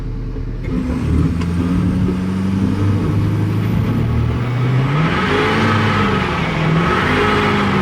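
A Ford F350 dually pickup's engine revs hard during a burnout, a loud continuous roar that climbs in pitch and stays close and steady with no talking.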